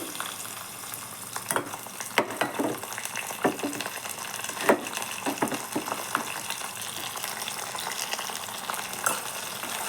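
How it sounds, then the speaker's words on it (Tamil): Garlic sautéing in a pan while cooking an egg thokku, a steady close sizzle and crackle with a few sharper stirring scrapes and clinks scattered through. "நல்லா வதக்கி கொடுத்துக்கலாம் கொஞ்சம் நேரம் வதங்கட்டும்"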